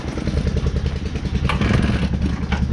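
A Husqvarna engine runs rough in cold weather, a loud, uneven, pulsing chug with intermittent clatter throughout.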